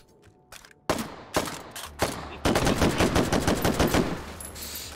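Gunshots in the VR shooter Hot Dogs, Horseshoes & Hand Grenades, a few sharp single shots followed by a fast, loud automatic burst that rattles on for about two seconds, close and dominant.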